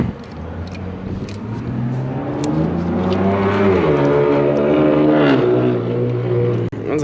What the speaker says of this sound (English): That was a Camaro this time.